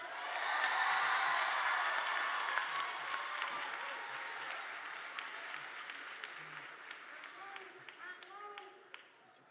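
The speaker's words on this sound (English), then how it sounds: "Please offer your applause for these students one more time" An audience at a high school commencement applauds graduating students, loud sustained clapping that gradually thins out into scattered claps near the end, with some talking in the room.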